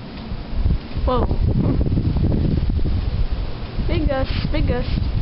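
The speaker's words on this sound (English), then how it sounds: "Big gust." A strong gust of wind blows outdoors during snowfall, a loud, continuous rushing roar with buffeting against the microphone, while a person's voice is heard briefly over it.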